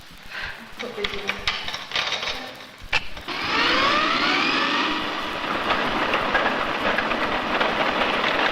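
A towing carriage rolls along rails over a ship-model test tank with a rumbling, rattling clatter and a steady hiss, preceded by a few clanks and knocks.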